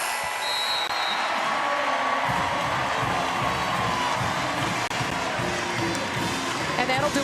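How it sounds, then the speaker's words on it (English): A basketball arena crowd roars and cheers steadily at the Gonzaga vs UC Irvine game in March 2024, a dense, loud wash of voices with a commentator speaking over it. "Crowd will tell the story."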